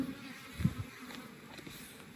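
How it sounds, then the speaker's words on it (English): Honey bees hum steadily inside a stacked wooden hive box, a soft continuous buzz with a brief louder swell near the start, heard close and without talk. "This top one's a box of bees."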